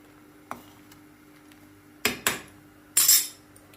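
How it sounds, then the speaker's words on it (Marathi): Brown rice bisibele bath boiling in a pot gets stirred, giving a few sharp metallic clinks and scrapes of a spoon against the pot, the loudest in a quick cluster near the end over quiet background. "आता चांगली उकळी आली आहे, एकदा हलवून बघायचं"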